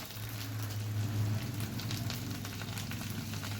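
Onion paste frying in hot oil with cinnamon and dried chilli for a Bengali banana-flower dish gives a steady, close crackling sizzle that runs unbroken, with a low hum beneath it and no voices.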